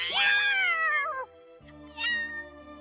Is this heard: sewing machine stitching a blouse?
no